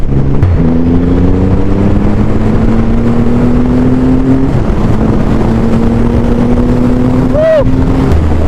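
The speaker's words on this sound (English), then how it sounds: "It doesn't sound like any other motorcycle. In fact, it doesn't sound like a motorcycle. It sounds more like a car." A Triumph Rocket 3 GT motorcycle with a 2500cc engine runs loud and close while riding, its deep car-like drone steady throughout with small shifts in pitch, alone without talk.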